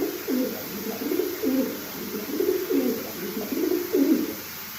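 A pet pigeon or dove coos indoors in a steady repeated series of soft, low, throaty calls, about seven in a row, close to the microphone with no talking.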